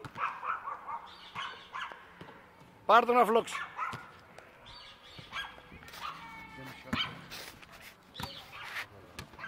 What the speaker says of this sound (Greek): Ποιος γαυγάει?